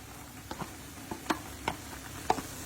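Mustard gravy and 300ml of sour cream are stirred in a pan with a spoon, giving a handful of faint, scattered scrapes and clinks against a quiet background with a soft simmering hiss.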